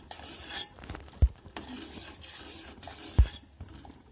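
A spoon stirs boiling sugar syrup with a pinch of cardamom in a pan for besan barfi, giving soft scraping and swirling sounds with two sharper knocks against the pan, close and quiet.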